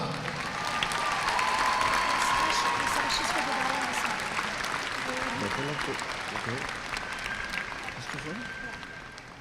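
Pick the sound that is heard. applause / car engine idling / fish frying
applause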